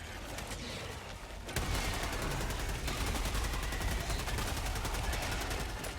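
Rifle gunfire in Helldivers 2 on PS5: a sustained stream of rapid, evenly spaced shots. A brief quieter stretch comes first, then loud, continuous automatic fire with no talking.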